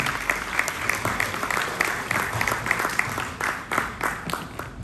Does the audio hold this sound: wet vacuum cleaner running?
no